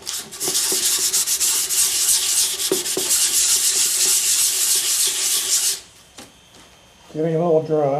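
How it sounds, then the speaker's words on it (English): Wet sanding of a wooden box with 150 grit sandpaper: steady, close scratchy rubbing strokes for several seconds, then a pause with faint noise before a voice speaks. "start wet sanding with 150 grit"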